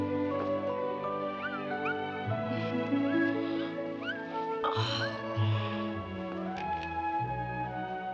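A mother cat and her kittens meow in a 1965 comedy film, with a few short, rising, high mews scattered over steady orchestral background music.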